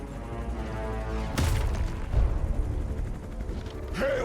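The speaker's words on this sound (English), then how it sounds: "That explosion just shorted out half our systems" Explosion in the video game Marvel's Midnight Suns, a sharp burst followed by a second thump and rumbling debris, heard against a background of game music and effects.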